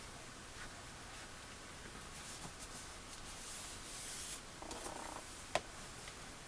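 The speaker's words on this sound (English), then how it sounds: "And burnish this down as well." Paper is burnished down onto a folio cover, producing soft, close rubbing and swishing strokes at low volume over a faint hiss, with one small tap near the end.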